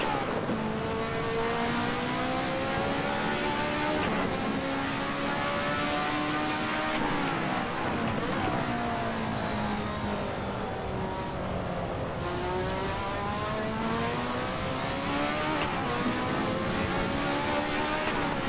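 A Lotus 98T turbo Formula 1 car in Assetto Corsa howls at high revs, its pitch sweeping up through the gears with brief dips at each shift, loud and unbroken throughout.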